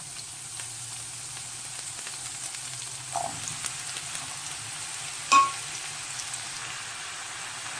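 Onion and mushroom frying in a pan with popped mustard seeds, a steady soft sizzle throughout with a faint stir around the middle and a sharp utensil clink near the end.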